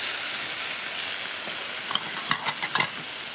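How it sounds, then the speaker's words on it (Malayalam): Washed beef tipped into a hot frying pan for a Kerala-style beef curry, giving a steady background sizzle with a few sharp scrapes and clatters of stirring near the end, no talking. "കഴുകി വെച്ചേക്കുന്ന ബീഫ് ഞാൻ ചേർക്കുന്നുണ്ട് ഇതിലോട്ട്."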